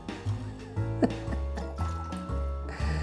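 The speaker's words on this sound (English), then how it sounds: "Now all this is mixed together with 2 ounces of grape juice." Grape juice poured into a cocktail mix, a short close gurgling fill with rising glug tones and a few splashy drips over about three seconds.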